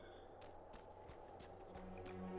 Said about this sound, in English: Still hear footsteps.